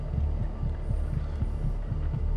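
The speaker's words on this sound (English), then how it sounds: "Why do I hear heartbeats?" Heartbeats in the video game God of War, a low, deep thumping lub-dub repeating at a steady slow rhythm over a droning hum, with no talking.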